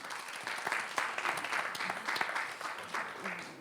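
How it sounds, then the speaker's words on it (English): Applause from a demo day audience, with many hands clapping steadily at a fairly quiet level throughout and scattered louder claps standing out. "Bravo, applause."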